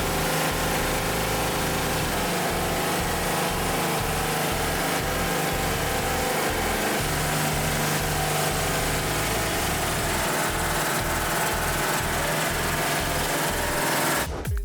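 Rock drill running steadily at an Australian mining exhibit, a loud continuous hammering engine-like rattle with throbbing low pulses, alone for about fifteen seconds before cutting off abruptly.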